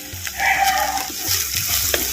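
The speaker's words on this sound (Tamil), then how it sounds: "சேர்த்த வெங்காயத்தை நல்லா எண்ணெயில் வதக்கு வதக்குன்னு வதக்குறோம்" Sliced large onions sautéing in hot oil in a pan for a beetroot pulao, a continuous close sizzle with occasional stirring scrapes.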